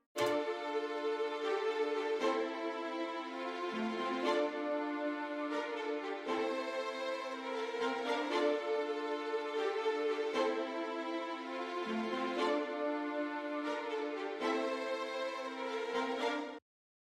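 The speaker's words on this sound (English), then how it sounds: "I went and got this bigger legato strings preset" Sustained legato string chords from a software preset swell and shift every couple of seconds, a smooth, full pad of bowed harmony playing alone without any voices.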